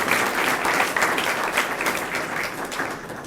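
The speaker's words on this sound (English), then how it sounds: "Another round of applause for all these individuals." Steady applause from a luncheon audience honoring college faculty and staff members who are also foundation donors, a dense even patter of many hands filling the room and easing slightly toward the end.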